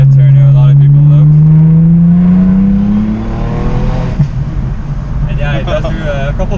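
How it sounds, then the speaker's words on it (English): Deep engine note of a B5 Audi S4 fitted with an excess power downpipe, a loud steady drone rising in pitch as it revs up, then settling into rumbling cruise with voices talking over it. "excess power downpipe, so the car sounds pretty good"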